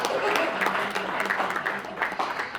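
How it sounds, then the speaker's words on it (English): Steady applause from an audience at a speaking event, a dense wash of clapping that holds for the whole stretch with a voice faintly mixed underneath. "Let's clap for him."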